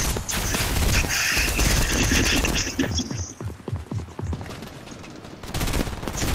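Rapid bursts of gunfire from the video game Fortnite crackle loudly in clusters, thinning into scattered shots before another dense volley at the end.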